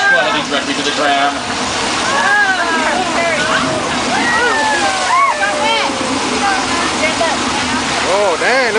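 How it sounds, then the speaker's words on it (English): A heavy rush of staged flash-flood water released toward a tram on the Universal Studios backlot roars and splashes continuously while many people nearby shout and exclaim over it. "flash flood heading directly to the tram."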